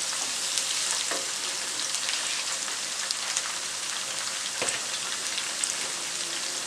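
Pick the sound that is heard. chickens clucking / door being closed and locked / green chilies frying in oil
green chilies frying in oil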